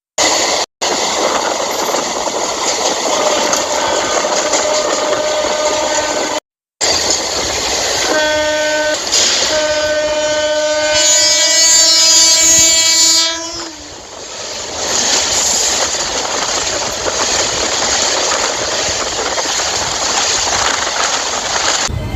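A Sonarpur–Sealdah local passenger train rumbles steadily past, its loud horn blaring for several seconds midway before the clatter of the cars continues.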